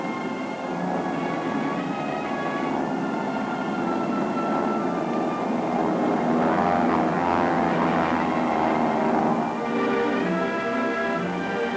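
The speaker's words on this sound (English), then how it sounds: "This huge seaplane had 4 motors on each side of the pilot's cockpit" Multiple piston engines of the Hughes H-4 Hercules 'Spruce Goose', a huge eight-engine flying boat, drone steadily throughout, a loud continuous propeller roar that swells slightly toward the middle and stays constant.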